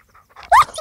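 A pet dog gives a single loud bark on command, a short sharp burst after a quiet pause, followed by faint shuffling.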